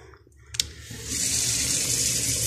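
Water running from a kitchen tap in a small bedsitter apartment in Nairobi, Kenya: after a click, a steady hissing gush starts and holds close and loud, with no talking.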